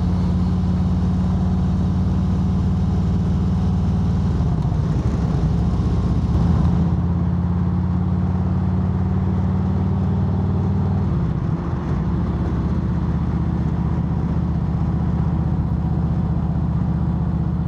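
A motorcycle engine drones steadily while riding, a loud continuous low hum with wind noise, unbroken throughout with slight changes in pitch and no talk.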